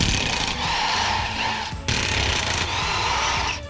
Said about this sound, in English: Well, that ratchet definitely did a good job.